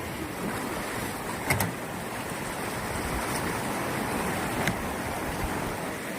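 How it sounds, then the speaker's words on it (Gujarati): Water from an overflowing lake rushing out through opened gates, a loud, continuous broadband roar that holds steady throughout, with a couple of brief knocks and no voices. "જોઈ શકો છો પાણી અત્યારે બહુ જાય,"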